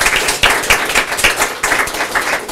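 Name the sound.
audience applause for an honored employee at a council meeting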